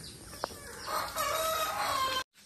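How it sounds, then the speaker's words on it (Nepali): A rooster crows once on a farm, a drawn-out, fairly near call lasting over a second, preceded by a short cluck and set against faint background farm noise. "कुखुराहरू"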